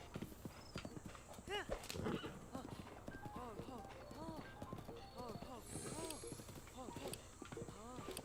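Repeated hoof clip-clops of a horse trotting in Zelda: Breath of the Wild, steady and close, with a brief whinny partway through and someone talking over it.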